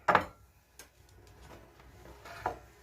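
A few sharp knife chops land on a board while chopping peppers, one loud near the start and another later, with quieter taps and light clatter between.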